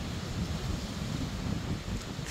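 Wind blows steadily through large swaying trees, a continuous broad rushing roar with slight swells and gusts, fairly loud and close to the microphone, with no voices.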